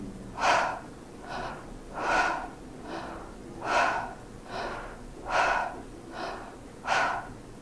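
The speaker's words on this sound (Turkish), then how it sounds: "Ağzımdan nefes alıyorum." A person demonstrating a breathing exercise, drawing breath in through the mouth: six slow, audible breathy inhalations at an even rhythm, each lasting about half a second, close and clear with nothing else over them.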